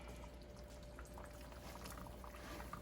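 Rinsed canned beans slide into a pot of boiling chili, a faint, steady wet pouring and bubbling sound heard close, with no speech.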